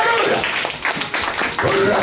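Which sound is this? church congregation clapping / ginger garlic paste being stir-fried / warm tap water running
church congregation clapping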